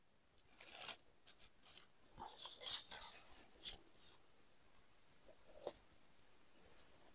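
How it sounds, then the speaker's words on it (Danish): Sewline pen drawing lines on fabric for a sewn Christmas heart, faint close scratchy strokes in short irregular bursts, quiet and without talking. "Og linjerne her, jeg tegner med min Sewline pen"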